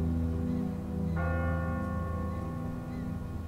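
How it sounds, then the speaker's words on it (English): A church bell tolls from a bell tower in The Walking Dead video game, one deep resonant strike ringing out and decaying slowly over a low sustained hum, loud and alone. "Ask not for whom the bell tolls."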